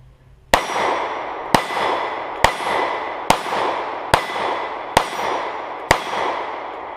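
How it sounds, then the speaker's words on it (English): A Kahr CW9 9mm pistol fires seven shots at steady intervals of just under a second, each a sharp close crack with a ringing tail, and no talking. "let's shoot some bullets through this thing."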